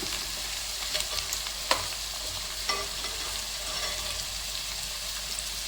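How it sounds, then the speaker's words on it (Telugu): Green chillies frying in a pan of oil for an aloo kurma, a steady close sizzle with occasional sharper pops and stirring scrapes, with no talking. "చక్కగా ఇది వేగుతుంది కదండి"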